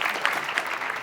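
A studio audience claps in a brief, moderately loud burst of steady applause with a few sharper individual claps.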